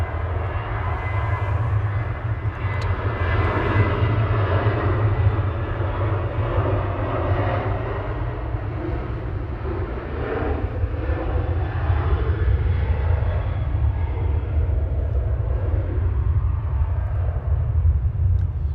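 Heavy jet airliners pass in succession at Manchester Airport, a sustained deep engine roar with layered whine and rumble that holds strong and fairly close for the whole stretch.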